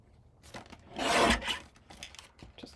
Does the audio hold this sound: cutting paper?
yes